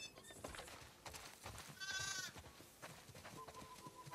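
Several short sheep bleats in The Last of Us Part II come in bursts, one longer wavering call in the middle, over quiet background movement.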